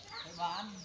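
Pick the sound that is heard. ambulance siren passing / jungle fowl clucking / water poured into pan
jungle fowl clucking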